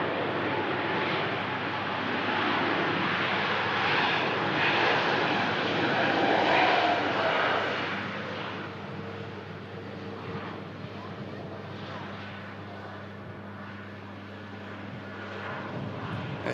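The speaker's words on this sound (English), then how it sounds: "And also on the taxi out, we have a Virgin Atlantic Airbus" A Virgin Atlantic Airbus A330 taxis past at an airport, its jet engines a loud, broad roar that swells and then settles into a lower steady hum with a droning tone.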